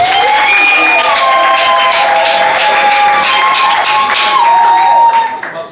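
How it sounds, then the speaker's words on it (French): Guests applaud at a civil wedding, a dense burst of clapping throughout with voices and tonal sounds riding over it, strong and close. "on applaudit"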